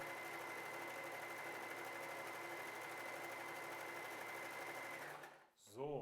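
A W6 N 1235/61 sewing machine stitches fabric under the presser foot, a steady, close mechanical whirr running continuously for about five seconds before stopping with a short clunk.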